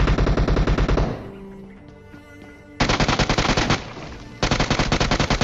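Rapid automatic gunfire from a fight in PUBG hammers in loud, dense bursts, stops for a moment while quieter game sounds fill the gap, then returns in two more long sustained volleys.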